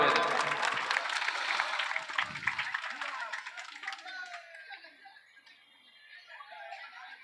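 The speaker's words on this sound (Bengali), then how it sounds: "আপনারা সবাই করতালি দিয়ে উৎসাহ দেবেন" An audience claps at a political gathering in Bhangar, the applause loud and dense at first, then thinning and fading away over several seconds, with some chuckling in the crowd.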